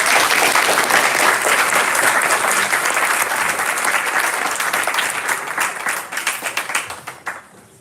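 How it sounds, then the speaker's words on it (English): A large audience at a Board of Education meeting claps loudly and steadily, sustained applause that thins out and fades to scattered claps near the end. "Please give them a round of applause."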